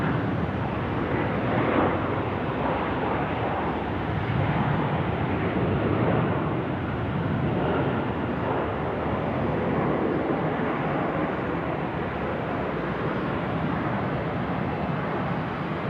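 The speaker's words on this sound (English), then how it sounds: "I think there's going to be a Jetstar 988 service get out before him, off to Perth." A Jetstar jet airliner takes off from runway 16 right at Sydney Airport, bound for Perth: a steady, loud, broadband engine roar that holds evenly throughout with no voices.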